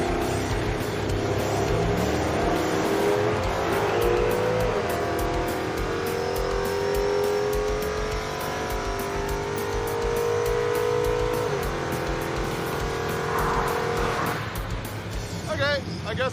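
A 1971 Chevy Suburban truck drag racing, its engine revving and accelerating hard with rising pitch through a gear shift, tire squeal as it goes sideways, loud and continuous before fading near the end.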